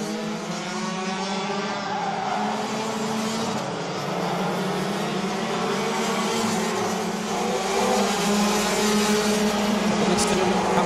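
Race cars at an RMC Germany kart race at Wackersdorf in 2020 howl past in a continuous, loud, steady engine drone that holds for the whole stretch, with a commentator talking over it.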